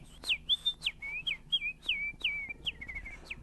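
A man whistles a bird call imitation, a quick series of bright chirps and downward-sliding tweets, each note short and close, repeated in an uneven rhythm with no talk over it.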